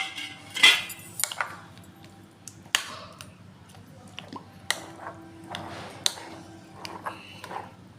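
Raita of chopped cucumber, carrot, onion, tomato and green chilli being mixed in a bowl: scattered light clinks and taps of a spoon against the dish, with soft wet stirring between, quiet and close.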